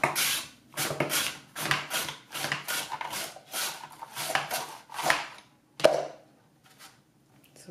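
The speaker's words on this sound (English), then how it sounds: "When you're doing juliennes, let's say you're doing a cucumber, just cut the cucumber into two or three pieces" A cucumber is julienne-sliced on a Swissmar Borner V-1001 V-Slicer Plus mandoline with the food holder, about ten quick rhythmic rasping strokes close by, each a short scraping swish, then a sharp knock and a pause.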